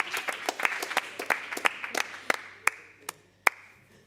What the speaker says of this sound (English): One last applause.